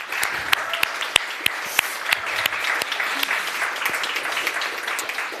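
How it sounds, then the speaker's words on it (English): A summit audience claps for the W7 advisors, a moderately loud, steady spread of many hands clapping, with a few sharp individual claps standing out and a voice faintly under it. "Some applause for our W7 advisors here,"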